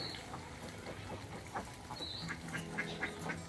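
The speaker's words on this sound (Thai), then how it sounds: "เป็ด" Ducks quack repeatedly in the background, a busy flock calling over a low rustling ambience with no talking.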